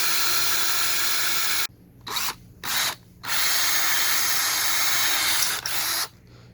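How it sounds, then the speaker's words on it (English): A power drill pre-drills holes in Hardie board siding, whirring in long steady bursts, broken by a few short pauses and restarts, loud and close with no talking. "We got our holes pre-drilled."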